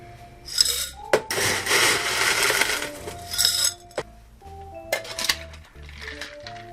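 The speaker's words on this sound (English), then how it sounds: "Gonna fill our zombie glass up with crushed ice." Crushed ice is scooped and poured into a zombie glass for a tiki cocktail, heard as bursts of gritty rattling and crunching with sharp clinks of ice against glass and pauses between scoops.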